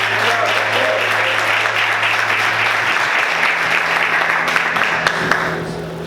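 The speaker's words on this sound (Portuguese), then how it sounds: "Vamos aplaudir o Senhor" Congregation applauding during a church service, a steady, full wash of clapping that holds throughout, with a low sustained organ or keyboard tone underneath.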